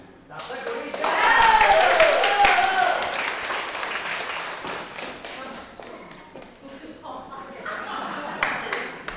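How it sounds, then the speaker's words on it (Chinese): A congregation at a church Sunday service breaks into clapping that swells to a dense, fairly close burst within the first few seconds, then thins into scattered claps while voices talk over it. "掌声鼓励一下。"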